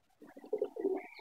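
A pigeon coos close by: a few soft, low, throaty coos in quick succession, with no other sound.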